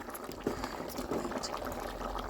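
Sambar with chopped vegetables bubbling in a pot for khichdi, a soft, steady low simmering burble with faint pops.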